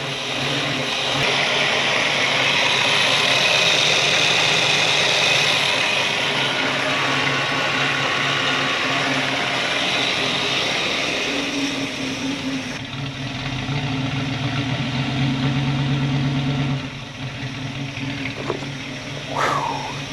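A Buick Electra 225 engine, rescued after a fire, idles with a steady droning hum and whirring fan noise, loud and continuous before dropping in level and changing tone partway through.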